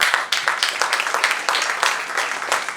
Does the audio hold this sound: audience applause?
yes